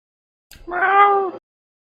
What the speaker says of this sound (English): I'm going to go let the cat out.